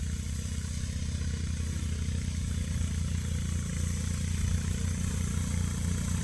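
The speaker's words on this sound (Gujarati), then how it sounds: "જો આ રીતનો અમે પલ્સર બાઇક ઉપર જુગાડ કર્યો છે" A Pulsar motorcycle engine, rigged as a homemade farm implement with a cooling fan beside it, idles steadily up close, a continuous low throbbing rumble with mechanical clatter, no voices.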